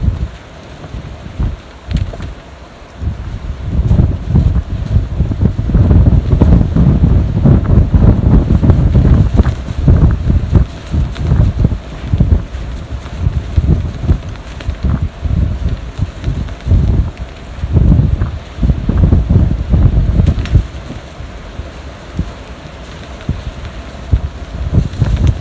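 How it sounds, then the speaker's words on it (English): Heavy gusts batter the microphone at a beach, roaring and buffeting in uneven surges that swell and ease for the whole stretch, loud and close with no voices. "It's extremely windy."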